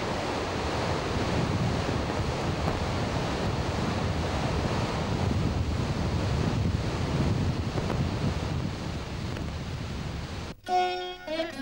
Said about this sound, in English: falls from a height of about 21 meters in fascinating ribbons of scintillating waterfalls known as Ettipotala.